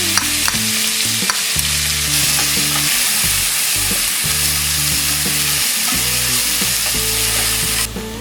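Spinach fries in a pan for a tricolour pulao, a loud, continuous sizzle with repeated scraping stirs across the whole stretch and no voices.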